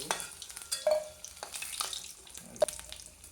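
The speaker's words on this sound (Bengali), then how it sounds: "আলু ভাজা হয়ে গেছে" Potatoes frying in oil in a home kitchen give a steady low sizzle, broken by a few sharp clinks and scrapes of stirring, with no talk.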